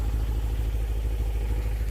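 A BMW E92 M3 engine sends a low, rapidly pulsing induction growl, close and steady for a brief moment with no talking over it.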